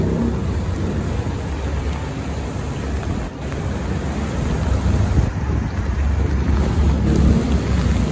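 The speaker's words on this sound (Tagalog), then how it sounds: "sobrang lakas ng hangin" Strong typhoon wind roars without a break during flooding, a dense, loud rushing that buffets the microphone with low rumbling gusts and no voices.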